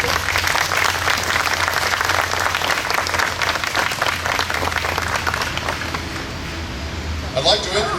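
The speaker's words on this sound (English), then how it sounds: "and a round of applause for our organizers" Sustained applause from an audience at an outdoor courthouse marker celebration in Licking County, steady dense clapping with a low hum underneath, tapering slightly near the end as a voice begins.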